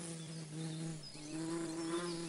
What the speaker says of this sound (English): A bee?